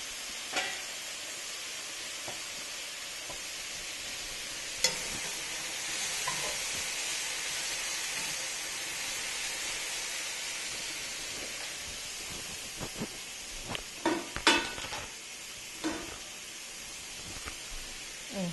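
Potato vegetable curry cooking in a pan, a faint steady sizzle and hiss with occasional light clinks and stirring scrapes toward the end, close and without talk.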